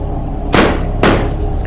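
A door being broken down inside a house, heard as two heavy broadband bangs about half a second apart, loud and close, with no voices over them.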